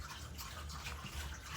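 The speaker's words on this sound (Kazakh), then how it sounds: "Және су қосатын боламыз." Water pours into a sweet-and-sour sauce made with ketchup for enoki mushrooms, giving a soft, steady, close splashing rush that lasts briefly with no talking.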